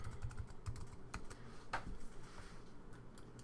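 Quiet, rapid keystrokes on a computer keyboard tap out in an uneven run with brief pauses, close and soft, and no voice.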